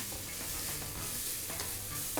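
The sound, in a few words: leeks and onions being stirred and sautéed in a pan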